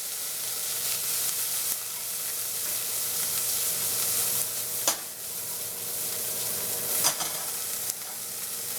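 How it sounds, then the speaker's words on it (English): Brussels sprouts fry in browned butter in a pan, a steady loud sizzle with occasional scraping strokes as they are stirred, heard close and without talking. "throw our Brussels sprouts in there, get them really nice and coated."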